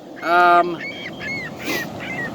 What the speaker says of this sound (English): You hear that laughing gull over there.